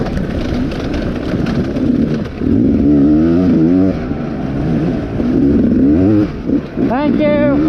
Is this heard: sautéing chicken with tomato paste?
no